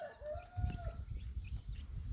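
About 14 month-old chicks cluck and call outdoors over a constant low background murmur, with one drawn-out rising call early on, nearby and moderately loud.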